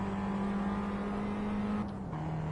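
An Abarth 500 EsseEsse racing car engine in the Assetto Corsa game at Barcelona, a steady sustained engine drone that holds pitch then drops briefly as it shifts, moderately loud with no speech.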